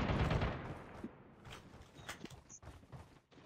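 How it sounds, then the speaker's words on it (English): Cover fire in the Call of Duty Mobile battle royale video game: a loud burst of rapid gunfire opens the clip, followed by scattered fainter shots and mechanical clatter. "I'm cover firing."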